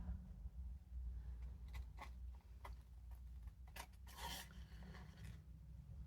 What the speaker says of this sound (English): Now let's trim around the flap.